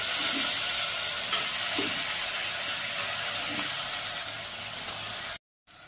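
Coconut kurma masala sizzles and fries in a pan, with a steady hiss and a few soft scrapes of stirring, then cuts off abruptly near the end.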